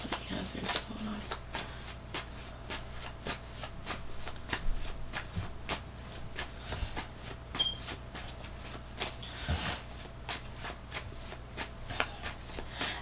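Tarot cards shuffled by hand in repeated quick riffling bursts, a steady crisp rustle and slap running throughout, moderately close over a low background hum.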